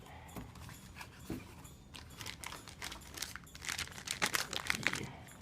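Crinkly plastic packaging being pulled open and rustled while unwrapping bike parts, with irregular crackling and crumpling bursts close up, growing busier toward the end.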